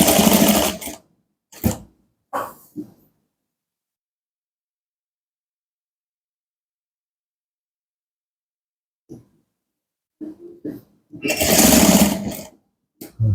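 A sewing machine stitches a welt pocket on fancy chinos in short loud bursts, two near the start and several near the end, separated by a long stretch of silence.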